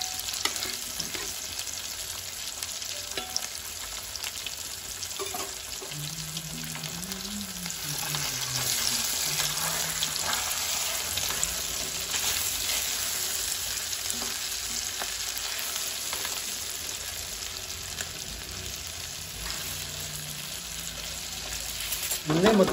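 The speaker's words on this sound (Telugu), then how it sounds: "సో ఈ విధంగా నీట్గా ఫ్రై చేసుకోవాలి" Large fish pieces fry in a pan of hot oil with a steady, bright sizzle across the whole span, a soft stir or scrape now and then, and a louder crackle at the very end.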